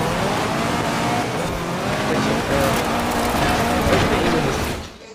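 A car engine in Forza Horizon 4, a KTM, revs loudly while its tires squeal and skid, with steady engine drone and rising and falling whines before fading out near the end.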